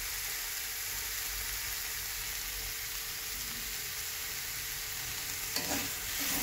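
Spice masala with salt and chili powder for a katla fish curry is stir-fried in a pan, giving a continuous close sizzle with faint scraping of the spatula and a brief clatter near the end.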